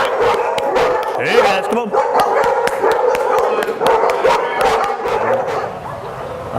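Several dogs at a dog care facility bark and yip in short bursts, close by and lively, while a man calls to them over the noise.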